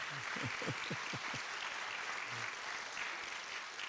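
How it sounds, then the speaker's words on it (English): A crowd at a high school graduation claps for singers, a dense, continuous wash of applause, with a low voice briefly audible beneath it. "Let's give our singers a hand clap."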